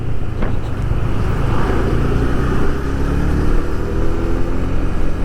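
A Honda CB150X motorcycle engine runs steadily loud through a midrange-rpm test ride, its harmonics climbing as it revs harder, with wind buffeting over the microphone throughout and no talking.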